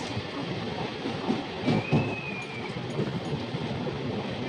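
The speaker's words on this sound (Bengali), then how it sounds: "আজকে প্রথম আমার ইস্টার্ন রেলওয়ের মেমো ট্রেনে করে পার করছি" An Eastern Railway MEMU local passenger train runs steadily, with continuous rumbling wheel and carriage noise, a brief high wheel squeal partway through, and no talking.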